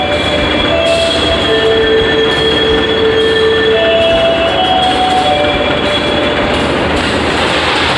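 A Dhoho train locomotive rumbles loudly and continuously at close range at Kertosono station during shunting, with thin metallic squeals from the wheels drifting in and out over the steady roar.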